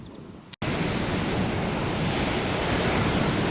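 Pacific Ocean surf breaking on the beach at Usal Creek, a steady loud broadband roar of waves that fills the whole span after a brief dropout near the start, with no voices.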